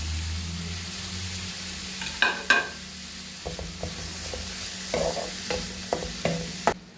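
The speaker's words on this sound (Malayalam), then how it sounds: "ഒരു സവാള ആഡ് ചെയ്ത് കൊടുക്കാം. കുറച്ച് കൊച്ചുള്ളി കൂടെ ആഡ് ചെയ്ത് കൊടുക്കാം." Onion and shallots fry in oil for a chicken curry, a steady close sizzle with a spoon scraping and knocking against the pan at irregular intervals, louder toward the end.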